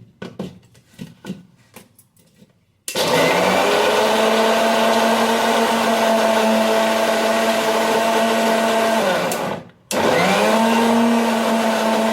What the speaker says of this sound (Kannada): ಸ್ವಲ್ಪ ಸ್ವಲ್ಪ ಮಿಕ್ಸಿಗೆ ಹಾಕ್ತೀನಿ ರೀ ಇದನ್ನು